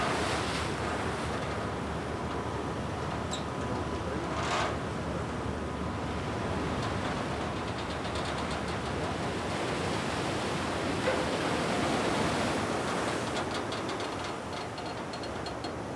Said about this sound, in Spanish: Los vientos poderosos y las olas gigantes del Atlántico Sur atormentan incluso a las tripulaciones más expertas en sus travesías por estas aguas.